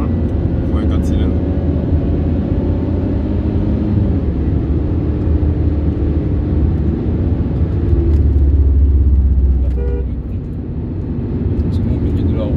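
A Mercedes C300 4matic with a four-cylinder engine idles and runs with a low, steady rumble that swells briefly near the end, heard beneath people talking close by.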